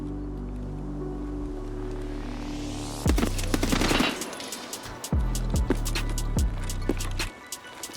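Bursts of rapid gunfire crackle over a low droning hum, with sharp repeated shots clustering in the second half.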